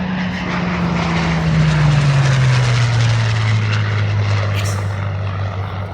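A Hawker Hurricane fighter's piston engine drones past overhead, a loud steady roar whose pitch slides gradually lower as it passes, with no talk over it.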